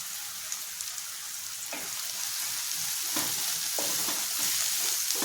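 Chopped ginger, carrot and capsicum fry in a pan for a mixed vegetable omelette, giving a continuous bright sizzle that grows slightly louder, broken by several scraping stirs.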